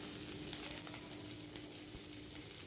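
Nigella seeds, crushed garlic and green chilli fry in hot oil with a steady, dense sizzle that continues without a break.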